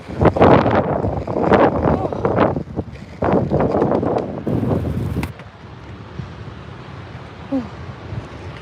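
Strong gusts buffet an outdoor microphone on a sunny Florida coast, a loud, rough rumble for about five seconds before easing into a softer, steady wind hiss.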